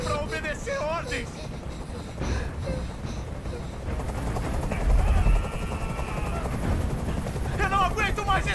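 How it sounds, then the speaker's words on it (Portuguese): A helicopter in the video game Detroit: Become Human keeps up a steady rotor drone through the scene, with scattered game sounds and a spoken voice layered over it. "Esse helicóptero tem que sair daqui agora."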